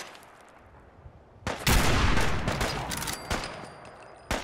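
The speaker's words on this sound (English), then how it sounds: "I'm firing my gun and you're wondering what I'm shooting at" A gun fires repeatedly in the video game Fallout 4, bursting in after a quiet start into a loud, dense volley of shots with a few sharp separate cracks near the end.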